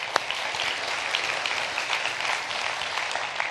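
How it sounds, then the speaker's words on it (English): A theater audience claps in a dense, steady burst of applause that fills the room throughout, fairly loud, with no voices rising above it. "Give yourself a round of applause."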